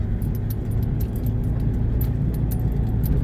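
A 2009 Toyota Hilux D4D turbo diesel 4x2 with manual transmission climbs a steep hill in first gear, its engine a steady low diesel drone with faint rattling and clicking, and no talk.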